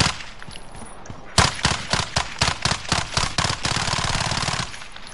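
Rapid machine gun fire in Call of Duty Modern Warfare, hardcore mode: after a brief quieter lead-in, a loud, close string of about a dozen sharp shots cracks out in quick succession before merging into one sustained burst.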